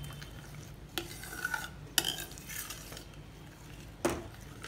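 Shahi paneer gravy, thickened with dry fruits, being mixed in a pan: soft, faint stirring over a low steady hum, with a few isolated spoon taps against the pan spaced about a second or two apart.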